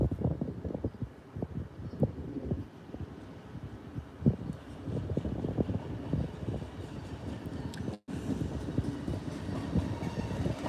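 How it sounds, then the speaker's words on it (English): An IET train on the line at Doncaster railway station, a steady loud rumble of wheels and engine carrying on throughout with rhythmic clatter, briefly cut at one point, no talk. "we have another IET heading in our direction"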